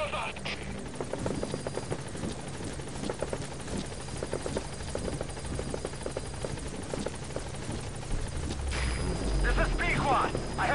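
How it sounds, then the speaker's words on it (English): Military helicopter arriving in the stealth-action video game Metal Gear Solid 5: The Phantom Pain, a steady whirring rotor drone throughout under game speech, swelling louder near the end as it comes in close. "Okay, there's the chopper."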